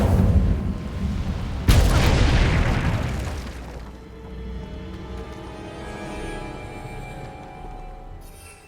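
A fiery spell blast from the Incendio charm in Hogwarts Legacy erupts as a sudden loud boom, then rolls off into a fading rumble with faint lingering game ambience behind it.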